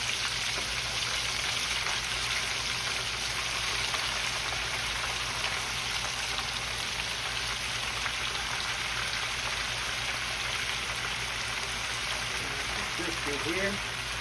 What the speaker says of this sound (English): You know it ain't gonna take about 2 minutes to fry this.